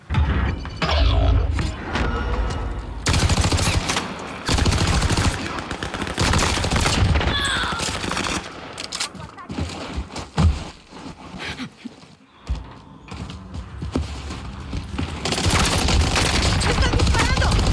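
Sustained automatic gunfire and explosive volleys fill a video game battle, loud and nearly unbroken with brief lulls, overlaid by in-game voice callouts.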